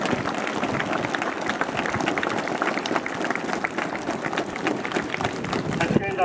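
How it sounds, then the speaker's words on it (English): An audience at a school investiture ceremony claps for a guest in dense, continuous applause, with crowd voices mixed into the clapping from start to finish. "Please give him a big clap"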